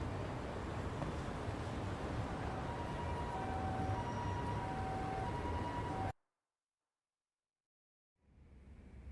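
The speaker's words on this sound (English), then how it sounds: "Siren." A siren wails in the Lost Judgment video game, with steady tonal sweeps above a dense, loud background rumble for about six seconds before cutting to silence, then low noise returning.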